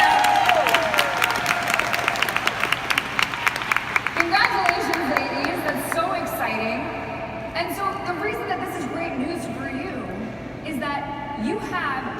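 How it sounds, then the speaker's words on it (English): A crowd breaks into dense, sustained applause with cheering, steady and loud throughout, with voices rising in the mix toward the end. "Can you give a big round of applause?"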